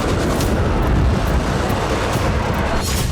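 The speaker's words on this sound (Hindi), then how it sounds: "यहां एक गैस स्टोरेज बेस को निशाना बनाया गया, जिसके बाद ज्वालामुखी जैसा विस्फोट हुआ" Explosion at a gas storage base in Kazan after a drone strike, likened to a volcanic eruption: a loud, sustained, rumbling roar with sharp bursts and crackles through it, filling the whole stretch without pause.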